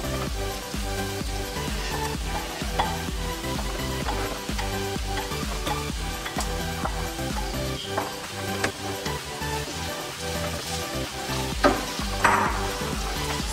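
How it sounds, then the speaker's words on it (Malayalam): Thinly sliced onions sautéing in a pan for a Kerala-style pearl spot fish molee, a loud, dense, constant sizzle with frequent spatula scrapes and stirring knocks throughout. "സവോള നല്ല ബ്രൗൺ ഷെയ്ഡ് ആവുന്നത് പോലെ നമുക്ക് വഴറ്റിയെടുക്കാം"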